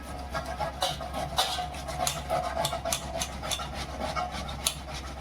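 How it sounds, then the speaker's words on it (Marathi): Green chillies and coriander leaves being grated by hand on a kitchen grater, a steady rough rasping with repeated scraping strokes at close range, no talking. "कोथंबीर आणि मिरची किसायला घेतली मी"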